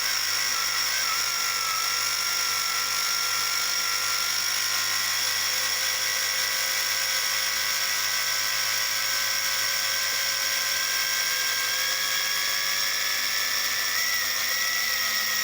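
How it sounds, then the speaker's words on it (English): Electric motor of an RC car tyre conditioner runs nonstop with a thin, high, steady whine, close and unbroken from start to finish. "And then you can hear it slowing the motor down."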